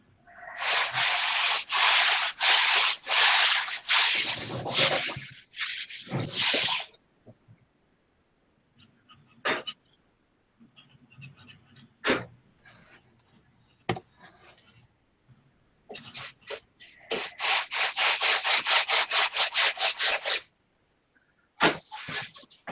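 Hand sanding on wood rasps close by in quick rhythmic back-and-forth strokes, two loud bursts separated by a quieter stretch of scattered taps and scrapes.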